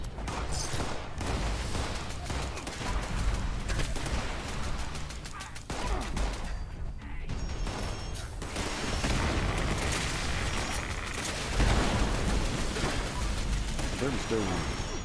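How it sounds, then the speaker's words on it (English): Rapid, continuous gunfire in Fallout 76, a dense stream of shots and booms filling the whole stretch at steady loudness, with a voice talking over the battle. "It's like I can just keep on firing."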